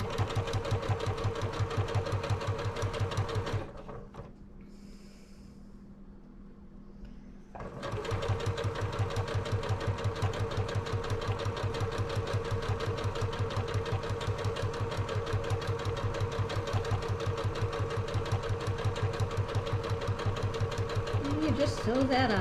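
A sewing machine stitching fabric for a quilted wallhanging runs in a steady, close, rapid mechanical chatter, pauses briefly for a few seconds, then resumes its even rhythm; a voice speaks quietly underneath.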